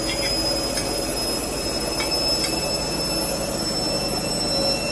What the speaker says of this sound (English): That's the washing machine.